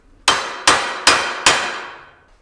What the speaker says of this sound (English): anytime that I hit this with a hammer